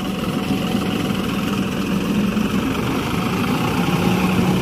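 A John Deere 5405 CRDI tractor's diesel engine runs hard in low gear on a muddy field, giving a loud, steady, dense rumble with no pauses or voices over it.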